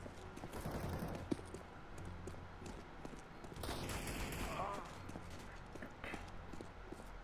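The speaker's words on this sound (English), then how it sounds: "your teammate was shooting at something down there" Video game gunfire from a teammate shooting somewhere below, faint bursts of distant shots under a muffled background, with a voice speaking over parts of it.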